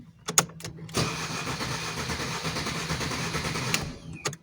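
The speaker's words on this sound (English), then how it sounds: "so I will cycle the key a bunch of times to be easier to start the engine" An Alfa Romeo 1.3 or 1.6 MultiJet diesel engine is cranked and started: a couple of short clicks, then a sustained whirring churn of starting and running, loud and close with no talk.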